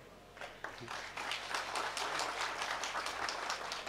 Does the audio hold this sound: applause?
yes